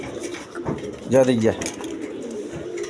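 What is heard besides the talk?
pigeons cooing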